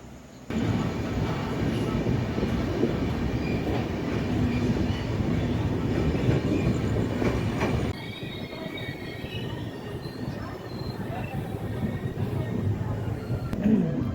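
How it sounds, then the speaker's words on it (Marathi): Onboard the KSR Bengaluru Nanded Superfast Express (train 16593) leaving Purna Junction, a steady loud rumble of wheels on rails with squeals and clatter continues throughout, dropping slightly in level midway. "दहा वाजून आठ मिनिटांनी पूर्णा जंक्शनवरून आपली ट्रेन निघालेली आहे"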